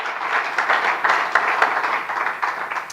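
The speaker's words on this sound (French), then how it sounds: "Let's clap our hand for the Lord." Church congregation clapping along during a French-language sermon, a steady dense patter of many hands filling the room.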